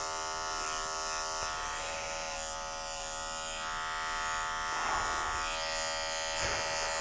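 Electric clippers buzz steadily and close up while shaving the matted face of a Shih Tzu and Cocker Spaniel mix dog during grooming, with slight swells in the hum as the blade moves.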